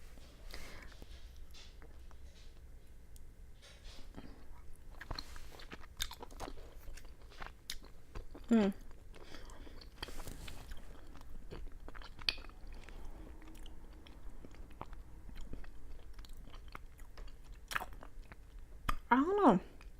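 Close, steady chewing of a rice cake filled with fruit-flavor bean paste, soft sticky bites and small crunchy clicks repeating throughout, with occasional quiet voice sounds in between.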